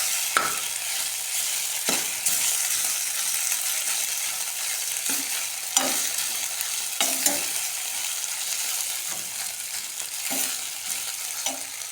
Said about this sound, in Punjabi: ਹੁਣ ਇਹਨੂੰ ਆਪਾਂ ਚੰਗੀ ਤਰ੍ਹਾਂ ਭੁੰਨ ਲਾਂਗੇ